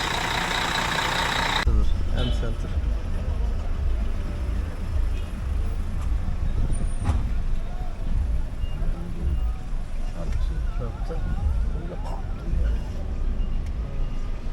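Bus engine idling at a bus station on a Mardin to Iraq route, a steady low rumble throughout, fairly close, with brief speech over it.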